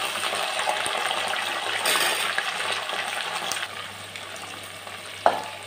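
Meal maker soya chunks and sweet corn sizzle and fry in a pan of spices, potatoes, onion and green chillies for biryani, a steady close crackle with a few stirring clinks and one sharp knock near the end.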